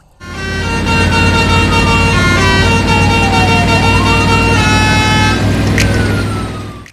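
Toy tow truck siren wailing loudly and continuously, with rising and falling tones sweeping across steady electronic harmonics, close and alone for several seconds.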